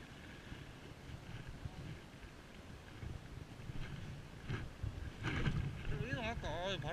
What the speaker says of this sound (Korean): 바람 너무 많이 부는데.